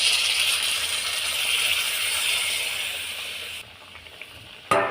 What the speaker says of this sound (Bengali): এবার আমি আলু আর মটরশুটিটা দিয়ে দিচ্ছি এবার আমি পরিমাণ মতন জল দিয়ে দিচ্ছি